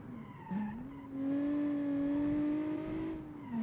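A 1970s car in a video game revs steadily as it drives, its engine tone climbing and holding high and loud for several seconds before easing off slightly at the end.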